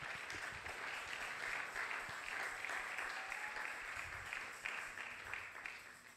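A church congregation at a Congolese-style worship service claps and cheers for the Lord, a dense, sustained roar of applause from many people, fairly distant and continuous.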